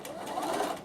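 A Bernina sewing machine stitching patchwork pieces, a steady, fairly soft mechanical whir with rapid needle pulses running throughout, close by.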